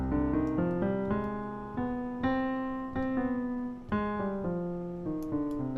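A harmonic minor scale is played on a keyboard-like instrument, one sustained note after another in an even stepwise run of about a dozen tones, clear and close with no talking.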